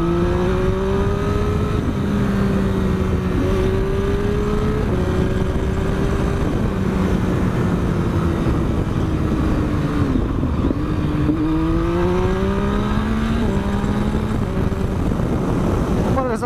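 A 2012 Triumph Street Triple with an Arrow aftermarket exhaust runs steadily nearby, its three-cylinder note droning and rising and falling through several gear-like pitch sweeps, with a brief dip around the middle, no talk over it.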